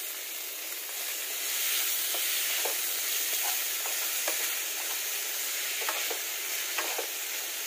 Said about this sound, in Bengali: এই যে বয়েল করা মোচাগুলো এবার আমি দিয়ে দিব